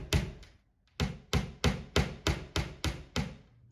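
A small picture-hanger nail being hammered into a wall, about ten sharp, close taps in a steady rhythm after two quick starting taps and a short pause.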